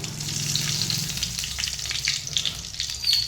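Mustard seeds crackle and sizzle steadily in hot oil for a South Indian tempering, a close, busy frying sound with small pops scattered throughout.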